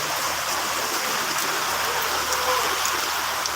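Heavy rain pours down steadily onto a flooding road outside a shop, a dense, even hiss of water with no break and no speech.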